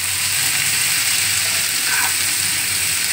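Capsicum and onion frying in a pan, a steady dense sizzle that holds at constant loudness throughout, close and with no voices.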